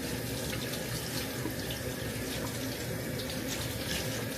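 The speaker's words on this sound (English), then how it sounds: "Wash your hands." Tap water runs steadily into a sink while hands are washed beneath the stream, a close, continuous broadband splashing that holds level and unbroken from start to finish with no talk over it.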